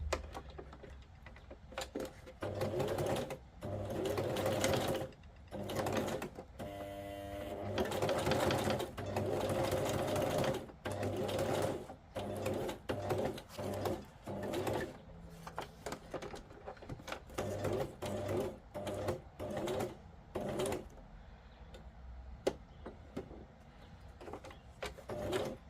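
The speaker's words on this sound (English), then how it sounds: "I think I'm going to sew around this little window" Sewing machine stitching around a small window on a scrapbook page, running in steady bursts of rapid mechanical needle chatter with brief pauses between runs, close and clear.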